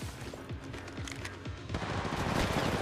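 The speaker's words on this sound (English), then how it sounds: "I am taking fire, friends." Bursts of automatic gunfire in Apex Legends Mobile: rapid sharp cracks fired in quick strings, building into a dense, loud fusillade toward the end, with no talking.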